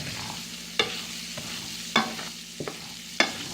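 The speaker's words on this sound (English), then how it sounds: "all you do is saute it for a few minutes" Rice-A-Roni being sautéed in butter in a pan, with a low steady sizzle under a few sharp spoon scrapes and clinks against the pan at irregular intervals.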